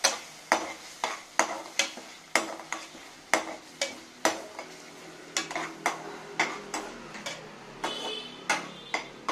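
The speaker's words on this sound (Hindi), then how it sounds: "अब हम भुंजे वाले टमाटर का पेस्ट डालेंगे और इसको अच्छी तरह से भुंजेंगे।" Roasted tomato paste frying in a pan while being stirred, heard as a steady run of sharp scraping ticks from the utensil over a soft sizzle, close and fairly quiet.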